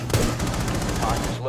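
Fast automatic gunfire in Rainbow Six Siege, close and loud, a rapid, even stream of shots over a steady low hum.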